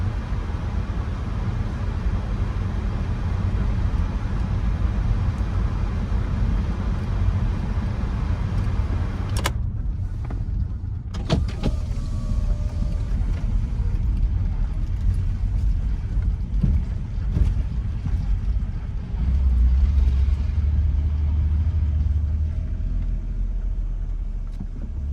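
A car rolls over a bumpy, potholed street in the 7th Ward of New Orleans with a constant low road rumble, occasional knocks and rattles from the cabin, and a heavier thumping stretch near the end, with no talk.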